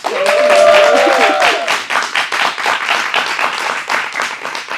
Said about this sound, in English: I know I told them to clap, but they're just clapping long.